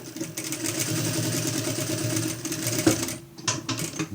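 A domestic sewing machine runs in a steady continuous whir while stitching a small seam along a fabric flap of a school pencil case, with brief pauses near the end for backstitching at start and finish.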